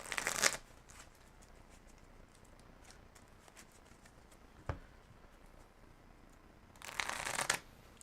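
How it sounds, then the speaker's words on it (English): A Magic: The Gathering deck is riffle-shuffled in two short bursts, one at the start and one near the end, with quiet handling and a single tap between them. "go search my deck and shuffle some more"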